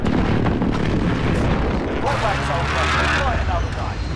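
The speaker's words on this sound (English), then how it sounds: "Enemy cluster strike incoming, take cover!" Cluster strike explosions in Call of Duty Modern Warfare online multiplayer, a dense continuous rumble of overlapping blasts with a distorted roar, loud throughout, with talk mixed in.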